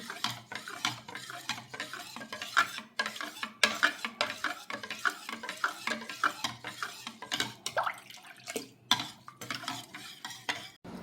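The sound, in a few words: stirring mango kheer mixture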